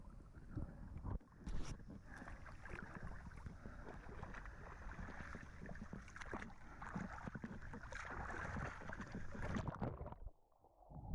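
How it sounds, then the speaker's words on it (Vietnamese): Muffled, continuous drone of a boat engine heard underwater during a solo scuba dive on a windy day, with bubbling and gurgling layered over it before it abruptly cuts out near the end. "Mình ở dưới nước vẫn nghe thấy tiếng động cơ của tàu chạy."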